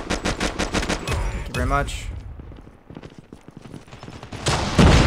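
Sniper rifle shots and gunfire in the Call of Duty Mobile gun game mode, sharp repeated reports in quick bursts at the start and again near the end, with a player talking in between.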